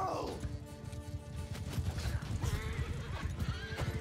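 A horse in the Mount & Blade II: Bannerlord video game whinnies at the start, then hooves pound in a fast galloping rhythm amid battle clatter, with a brief crash sound.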